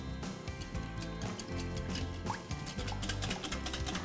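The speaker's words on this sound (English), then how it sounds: "I have half a cup of milk here, which I'm going to add to this, and about 2 teaspoons of sugar. Now I'm going to whisk this." Milk and about two teaspoons of sugar are whisked in a bowl for a jam-filled muffin batter: a rapid, continuous run of liquid clicking and light splashy ticks, close and fairly quiet, with no talking.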